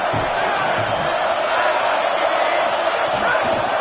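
Dense stadium crowd roar in the college football game CFB27 during a red-zone moment, a continuous loud wash of cheering and shouting that stays level throughout.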